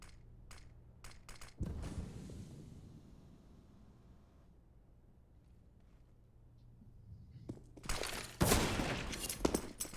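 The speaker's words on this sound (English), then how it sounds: "but Poison with the scout will deliver the opener." Scout rifle fire in the game CS:GO on the Mirage map during a pro league match comes as several sharp distant cracks early on, a quieter stretch, then a dense burst of loud shots near the end.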